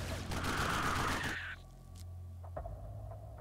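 Laser weapons fire in the turn-based strategy game Xenonauts, a dense rapid volley of zapping shots for about a second and a half, then a quieter lull with a few scattered electronic blips.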